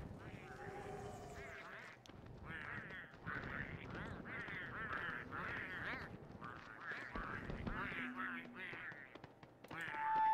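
Penguins in the video game Don't Starve Together squawk and honk repeatedly in a steady, fairly loud chorus of bird calls, with people talking over them.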